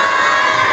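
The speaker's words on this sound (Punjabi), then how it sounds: "ਇੱਕ ਵਾਰੀ ਆਪਾਂ ਜ਼ੋਰਦਾਰ ਜੈਕਾਰਾ ਬੁਲਾਈਏ" A gathered Sikh congregation at a live Jap Ji event roars a short, loud jaikara response in unison, one brief burst of massed voices close by.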